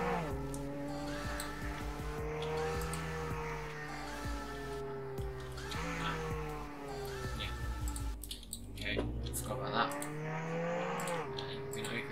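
A car driven in the Roblox game Jailbreak, its engine drone rising and falling in pitch as it accelerates, with clicks and brief tire noise, fairly steady and close throughout.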